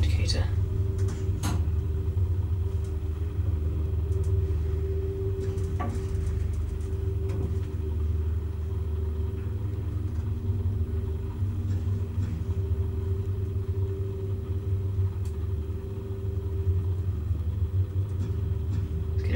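An old express elevator at Heal's in Brighton descends to the basement with a steady low mechanical rumble and hum, and a voice talks over the travel.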